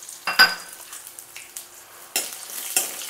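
Garlic, ginger, green chilies, cumin, bay leaf, cinnamon and masala frying in hot oil for tomato rice, a crackling sizzle with a sharp clink near the start and bursts of louder spattering later, close up.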